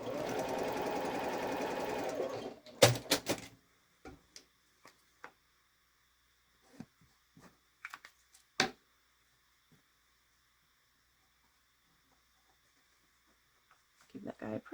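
A sewing machine stitches small Christmas quilt block sections together in a steady, fast run for about two seconds, then stops, followed by scattered clicks and light handling taps in a quiet room.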